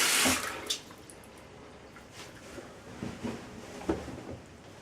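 Running water from a stream pours over a Sony Xperia Z smartphone, a splashy wash that is strongest at the start and then settles into a steady, fainter trickle with a few small splashes.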